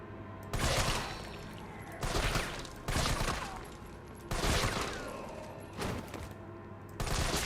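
Video game gunfire rings out in six sharp bursts at roughly one-second intervals, each a loud crack with a ringing tail, and short quiet gaps fall between the volleys.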